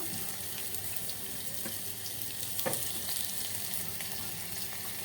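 Onion frying in a pan with garlic for a bheja fry, a dense continuous hiss and crackle at moderate level with a few brief clatters and no talking.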